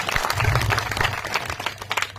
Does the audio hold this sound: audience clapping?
yes